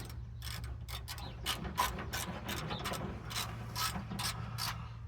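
A ratchet wrench clicks in steady quick bursts while bolts are tightened down on a 1972 C10 cooling system upgrade, close and fairly quiet over a low background hum, with no talking.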